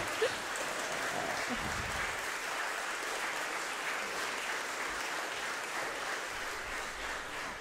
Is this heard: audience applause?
yes